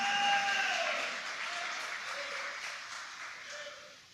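A church congregation applauds during a worship service. The dense clapping gradually fades, and faint voices and tones sound underneath.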